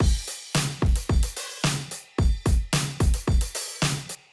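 Main drum loop of a produced electronic track: punchy, evenly spaced kicks and snappy hits in a steady groove, loud and alone.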